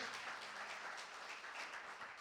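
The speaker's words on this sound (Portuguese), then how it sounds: "Aplauda Ele bem forte então" Faint congregational applause at a church celebration service, steady clapping heard from a distance for a couple of seconds.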